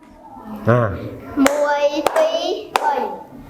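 Three sharp, separate hand claps ring out about half a second apart while children speak around them.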